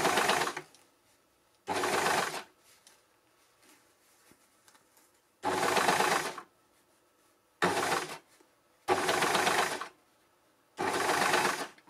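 Overlocker sewing machine stitching a sleeve head, running in five or six loud, close bursts of a second or so each, separated by near-silent pauses.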